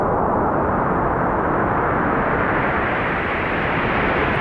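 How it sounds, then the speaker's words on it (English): Steady, dense rushing noise of high wind synthesized in Ableton, like strong blowing wind, loud and continuous with little variation, no voices. "We can drive the sound so it's like really blowing high winds."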